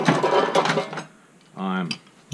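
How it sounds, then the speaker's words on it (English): A rusty half-inch drive Craftsman speed wrench is handled, giving a close burst of metallic rattling and ratchet-like clicking that is busiest early and then returns briefly in a tight run near the end. "Half-inch drive. This is a Craftsman speed wrench."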